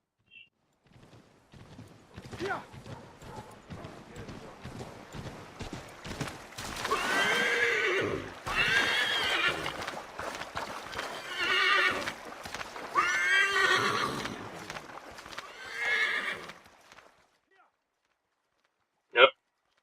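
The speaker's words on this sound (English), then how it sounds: "Horse dance in the river." In the Assassin's Creed 3 video game, a horse whinnies repeatedly, with clip-clopping hooves and splashy movement, loud bursts rising and falling over about fifteen seconds before a sharp click at the end.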